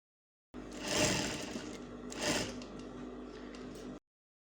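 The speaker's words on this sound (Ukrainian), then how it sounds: "загинаємо шов у підгін кінці стрічки та застрочуємо їх" Two short close bursts of a sewing machine's whirring, rattling stitch as it sews down the folded ends of binding tape, with a brief pause between runs.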